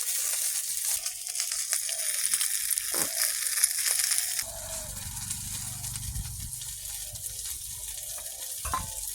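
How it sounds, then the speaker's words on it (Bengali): Snakehead fish frying in a pan, a dense hissing sizzle that shifts partway through into a lower, rougher crackle with occasional scrapes, close and continuous without speech. "মাছটাও ভাজা হয়ে গেছে মাছটাও নামিয়ে নেব"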